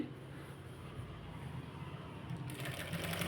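A sewing machine stitches a katori blouse, a steady close-up motor whir with a rapid needle chatter that quickens slightly toward the end, fairly quiet throughout.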